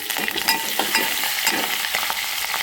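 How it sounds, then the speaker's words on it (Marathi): Curry leaves and dried red chilli crackle and sizzle in hot tempering for dal tadka, a loud, dense hiss with scattered spits and pops and a few stirring scrapes, close up and without speech. "आता आपल्याला गॅस बंद करून घ्यायचा आहे आणि त्याच्यात थोडेसे पानं टाकायचे आहेत कढीपत्त्याची"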